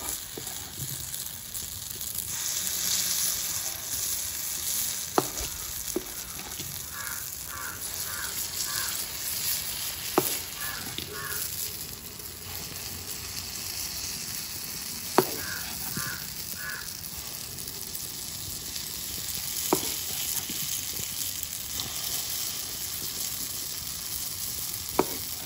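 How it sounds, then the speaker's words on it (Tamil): Dosa batter sizzles and fries steadily as it is poured into hot sesame oil, making a continuous hiss. Crows caw at intervals in the background, and sharp clicks break through now and then. "எண்ணெய் சூடானதும் நாங்கள் இப்போ மாவை ஊற்றிக்கொள்கிறோம்."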